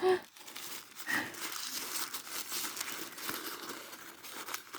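Crinkly paper crackles and tears as a mail package of dollhouse and Barbie miniatures is unwrapped, a steady close rustling with a few sharper crumples, under occasional soft talk.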